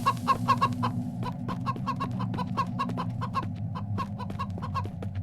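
Chickens cluck in the survival video game Mist Survival, with rapid, agitated clucks repeating steadily throughout over a constant low background hum.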